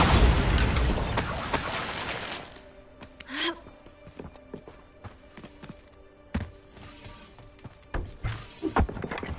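Spell blast in Hogwarts Legacy: a loud broadband burst opening the moment, then fading into quieter ambient game sounds with a few small pops and footsteps.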